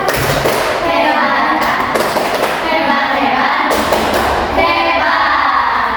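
A class does a loud, energetic rhythmic clapping routine together, dense thumping claps with children's voices chanting along close by.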